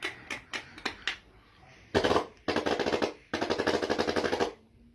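A man imitates a machine gun with his mouth: a few sharp single pops, then three rapid bursts of clattering, close-up voiced shots.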